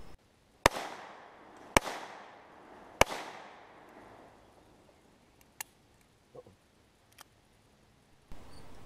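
Walther .22 pistol fired three times, sharp loud cracks about a second apart with short decaying echoes, followed by fainter small clicks.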